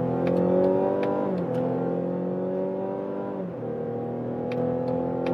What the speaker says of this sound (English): we do an acceleration from 50 kilometers an hour with both drivetrains.